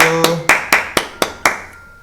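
Children clap at an elementary summer Bible school, seven sharp, loud, close claps in an even rhythm about a quarter second apart, with no talking.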